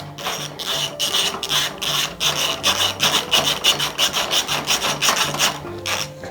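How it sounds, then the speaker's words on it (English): A 15 mm deep socket wrench working loose overtight axle nuts on a BMX bike, heard as repeated close scraping, rasping strokes in uneven bursts, with no talking. "With our 15 millimeter, with a deep set socket, we can get the leverage to break free these excessively tight axle nuts."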